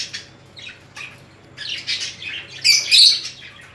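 Australian grass parakeets squawk and chirp in short, scattered bursts, growing louder and busier toward the end, close by with no voices.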